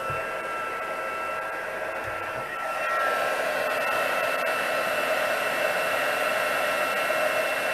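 A heat tool blows a steady, loud whirring hiss while it melts embossing powder on a card, with a slight rise in intensity partway through.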